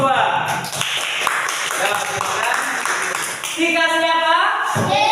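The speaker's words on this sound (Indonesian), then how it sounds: "Tepuk tangan untuk kelompok 2." Students in a classroom clap for a group under a teacher's talk, a scattered patter of hand claps that is partly masked by speech.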